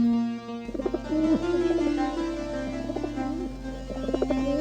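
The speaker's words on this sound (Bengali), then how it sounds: "স্বামী দেখুন তো, এই 5টি পায়রা এত ঠান্ডায় কি সুন্দর লাগছে।" Pigeons in cold weather give soft, low, throaty coos that repeat in short rolling phrases, close by and fairly clear against a quiet background.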